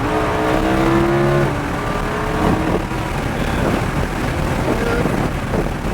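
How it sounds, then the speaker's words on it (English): Sports car accelerating on the Sonoma race track, a loud engine note rising and then droning steadily under heavy wind rush from the open cabin. "Now start to roll on that gas. And accelerate."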